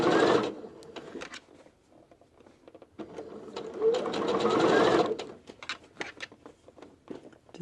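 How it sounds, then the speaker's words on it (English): A sewing machine stitches a mini holiday stocking in woven fabric, running close up in two sustained whirring bursts separated by quiet pauses filled with light handling clicks and taps. "Just going to sew all the way around this area here."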